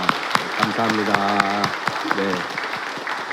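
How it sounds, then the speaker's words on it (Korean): A church congregation claps in thanks during a worship service, a steady patter of applause running under a voice speaking. "우리 감사의 박수 한번 올려드리면 좋겠습니다."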